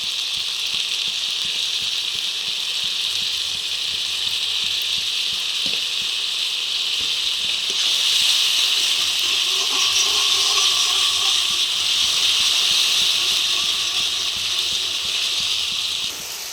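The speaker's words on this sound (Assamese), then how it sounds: "পেষ্টখিনি ঢালি দিছোঁ লৰাই লৈছোঁ" Spice paste with golden-brown onions frying in a pan while being stirred in a home kitchen makes a steady, loud sizzle and hiss that swells louder partway through, with faint scraping.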